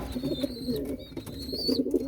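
Pigeons cooing in a loft, several low throaty coos overlapping close by, with a few thin high chirps and rustles mixed in.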